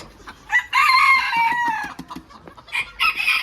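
A Bantam rooster crows loudly and close by on a farm, while hens cluck in short repeated bursts around it, with another crow starting at the end.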